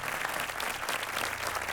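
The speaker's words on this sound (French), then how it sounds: "On peut venir s'applaudir." Applause from a boxing training group after a final timed round, a steady dense patter of clapping filling the whole stretch at moderate level.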